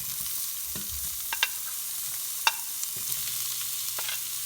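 Garlic, ginger and onions fry in hot oil over medium heat, a soft continuous sizzle with occasional sharper crackles and light stirring scrapes, no talking.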